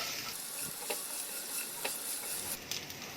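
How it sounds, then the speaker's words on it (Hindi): Onions sauté over low-medium gas, stirred constantly with a ladle. A quiet, continuous sizzle runs throughout, broken by a few faint scrapes and taps of the ladle against the pan, with no talking. "अब प्याज को भी थोड़ा नरम होने तक भूनेंगे, कड़छी लगातार चलाएंगे।"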